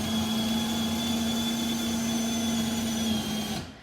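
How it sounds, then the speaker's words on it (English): A single-speed power drill running around 500 RPM drills into wood at one pitch with a loud, even whine for several seconds, then winds down and stops. "so that he can see where to stop when he's drilling"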